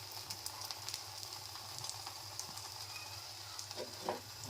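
An egg fries in hot oil for a home omelette, giving a steady close sizzle with light crackling spatters and a low background hum, no voices.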